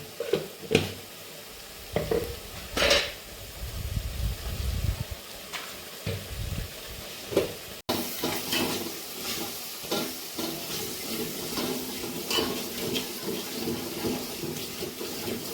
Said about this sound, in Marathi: डाळीला फोडणी देऊन घेत आहे